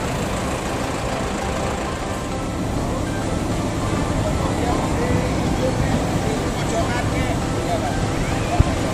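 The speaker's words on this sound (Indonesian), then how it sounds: "Nah, knalpot ngorok." A Pantura intercity bus from Warga Baru with a growling ngorok aftermarket exhaust, a continuous low rumbling engine drone with road noise around it and a brief sharp knock near the end.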